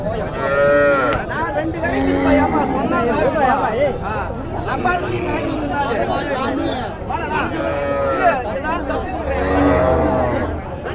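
Cattle moo repeatedly and loudly at a busy livestock market in Madhurapalli, where young bulls and calves have been brought for sale, long drawn-out calls overlapping under steady crowd chatter.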